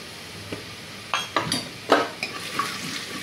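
Dal and spices such as turmeric and coriander powder are stirred in a frying pan over a soft sizzle, with several sharp scraping and clinking strokes of a spoon, close and without speech.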